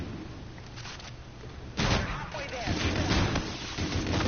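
Pump-action shotgun firing in Call of Duty: Infinite Warfare, heavy close blasts starting partway through and repeating amid ongoing gameplay noise, with someone talking over the action.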